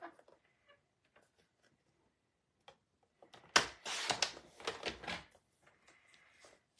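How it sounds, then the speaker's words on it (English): Scissors cutting a white strip of paper off the end of a paper pumpkin craft piece: a few faint clicks, then a short cluster of crisp snips and rustling, then quiet handling. "I'm going to cut that white bit off the end"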